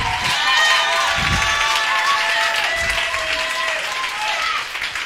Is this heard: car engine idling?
no